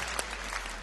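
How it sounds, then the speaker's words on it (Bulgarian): Brief burst of studio audience applause on a TV quiz show, a dense even clatter of clapping hands heard at a moderate distance, with no voices over it. "Аплодисменти за Мария."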